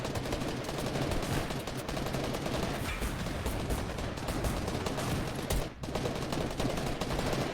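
Rapid gunfire from weapons in the video game Fortnite during a competitive match, dense and continuous bursts of shots filling the whole stretch with a brief dip near the end.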